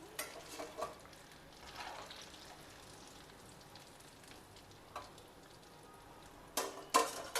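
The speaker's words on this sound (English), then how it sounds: "Turn it over and fry it till it gets a lovely reddish golden color all over." Poornam Boorelu deep frying in hot oil, a soft continuous bubbling crackle with scattered sharper pops and a louder clatter of stirring near the end, quiet and close with no voices.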